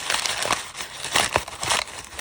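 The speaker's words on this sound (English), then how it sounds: "I'm just going to crumple it up" A paper bag is crumpled by hand for a Valentine's paper heart craft, giving close, continuous crinkling with several sharper crackling bursts.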